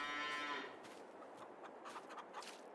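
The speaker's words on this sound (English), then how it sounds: "We have a cow and a calf and a few chooks" A cow moos once, loud and close, in a farming video game set on a British farm map, then fades into soft ambient game sound with faint chirps.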